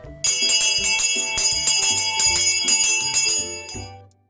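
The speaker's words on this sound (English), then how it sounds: "All the piggies heard the bell ring." Bright bell chimes ring out in a quick, repeated rhythmic pattern for about four seconds, clear and close, then the ringing cuts off and fades.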